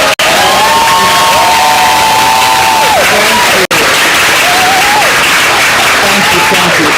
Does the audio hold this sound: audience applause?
yes